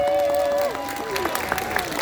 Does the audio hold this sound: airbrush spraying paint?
no